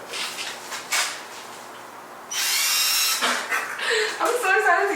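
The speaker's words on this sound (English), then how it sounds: "time to bring out the drill. I'm so excited to use the drill" Power drill churning old, smelly recycled ceramics clay, a loud whirring grind that starts midway and runs to the end, with a person talking before and over it.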